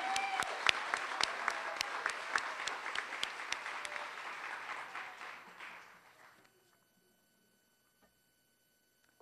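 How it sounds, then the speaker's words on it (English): Audience at a college nursing pinning ceremony applauds warmly with dense, sustained clapping that gradually fades away and leaves near silence for the final few seconds. "I would like you to give her a round of applause too"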